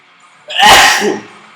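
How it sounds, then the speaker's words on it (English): A single loud, close sneeze bursts out after a quiet moment, with a short breathy tail as it fades. "I'm sneezing a lot"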